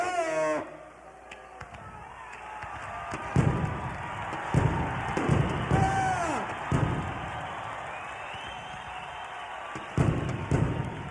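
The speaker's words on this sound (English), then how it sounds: "The size of the explosion would be unprecedented." Crate of disco records blown up on a baseball field, a sudden deep boom followed by a long rumbling crowd roar with repeated thuds and bangs, loud and spread out.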